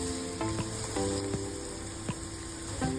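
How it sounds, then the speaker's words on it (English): Garlic, onion and ginger sauté in a pan for beef binagoongan, giving an even, close sizzle with a few light stirring knocks and no talking. "In a pan, saute garlic and onion. And then we add ginger."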